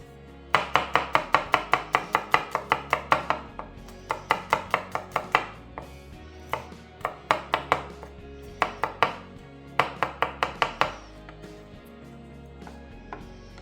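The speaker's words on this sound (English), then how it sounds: "So I'm just going to chop up these garlics." A knife chopping garlic cloves on a board, quick bursts of sharp rhythmic taps in several runs separated by short pauses, close and clear with no talking.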